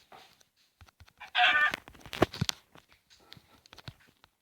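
Soft clucking and a brief squawk from chickens, with light scattered clicks and taps around them, fairly quiet overall.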